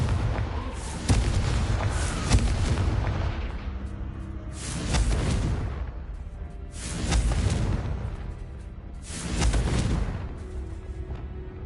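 Booming blasts from the Confringo fire spell in the video game Hogwarts Legacy: several deep, heavy explosions arrive a few seconds apart, each swelling and rumbling out before the next, with a quieter low rumble between them.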